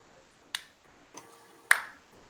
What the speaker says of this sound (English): oops, the only one clapping